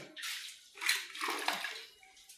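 Water is poured in a few splashing bursts, sloshing into a container close by, with short pauses between pours.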